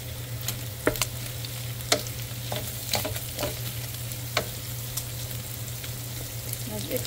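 Hot cooking oil crackles and spits while food fries, a steady sizzle punctuated by sharp popping bursts of splattering oil, fairly close and alone.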